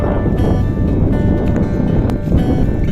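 Strong wind buffets the microphone near a beach in Doha, Qatar, in a constant rough roar, gusting unevenly throughout with no clear voices.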